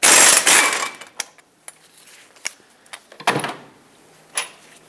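Socket wrench on caliper bracket bolts of a RAM 2500 front axle: a loud clank at the start, then scattered sharp metallic taps and knocks with quiet gaps between.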